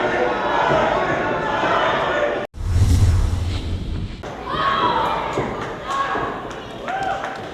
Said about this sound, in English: belly to belly suplex to a new champion on the way